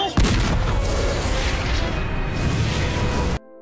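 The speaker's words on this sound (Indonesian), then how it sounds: "Luke tanpa basa-basi di sini menggunakan meriam untuk menyerang Setanta" Cannon fire in an anime fight scene: a loud, sustained, dense roar of blasts and rumble that cuts off abruptly near the end, with no speech.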